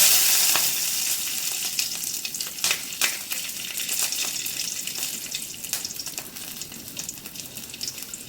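Green chilies fry in hot oil in a pan while a chicken gravy is cooked. A steady sizzle runs throughout, with scattered sharp crackles and pops, fairly close and alone.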